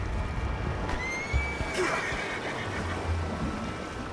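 A horse whinnies once, fairly near, in Red Dead Redemption 2, among a scattered group of loose horses, over a steady outdoor background with faint hoof sounds.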